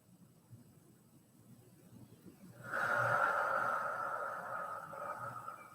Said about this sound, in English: inhale through the nose and exhale out the mouth